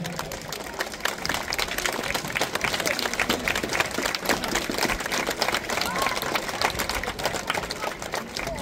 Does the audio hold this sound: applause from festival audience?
yes